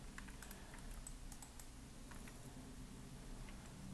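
Computer keyboard keys tapped quietly in a few light clicks, a short cluster followed by a couple more presses over a soft room hum.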